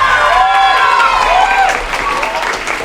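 Audience applause at a school playback show for first to fourth graders, brief clapping and crowd noise under a voice speaking over a PA.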